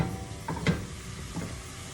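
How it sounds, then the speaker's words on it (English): Meat sautéing in a pot for lasagna soup, a soft steady sizzle with a few scraping stirs, close and fairly quiet, no talking. "Start by sauteing your meat of choice."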